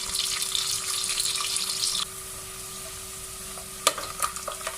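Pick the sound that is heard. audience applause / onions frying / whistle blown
onions frying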